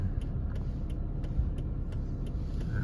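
Steady road rumble from inside a moving car near Nagoya Station in Japan, with faint regular ticking clicks throughout and no talk.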